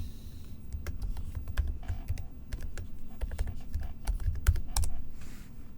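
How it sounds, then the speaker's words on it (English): Keys clack on a Mac computer keyboard while a password is typed into Terminal, a quick irregular patter of close, crisp taps over a faint background hum. "If I could type."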